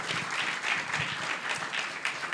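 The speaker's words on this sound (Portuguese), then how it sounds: "uma salva de palmas" Steady applause from an audience at a symposium, many hands clapping densely and continuously at close to moderate distance, with no talking over it.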